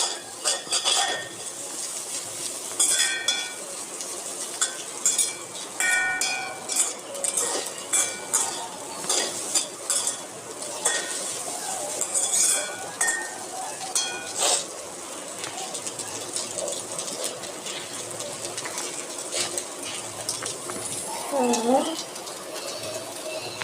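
Egg rice with vegetables being stirred and tossed in a pan, repeated metallic scrapes and clinks of a spoon against the pan in irregular bursts, close up, with a voice talking over much of it.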